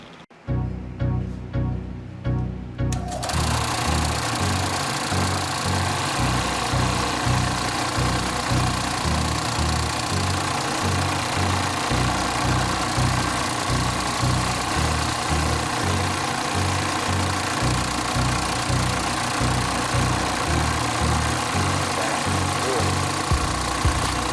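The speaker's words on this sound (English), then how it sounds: "the belt sander, and I'm going to do some fine sanding and try and get it back to its normal shape" A belt sander works on a wooden fishing lure, starting with a loud whine and settling into a steady, pulsing motor hum that runs close and continuous.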